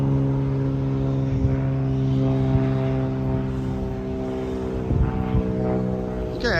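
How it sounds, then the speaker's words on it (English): A propeller floatplane drones overhead as it comes in to land on the water at a riverside park, a steady engine hum with faint movement sounds nearby. "Plane that's going to land on the water there."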